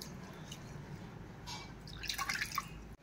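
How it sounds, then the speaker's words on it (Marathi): Water is poured off rinsed rice, heard as faint, sparse drips that swell into a brief splashy trickle near the end. "आणि पाणी ओतून द्यायचं."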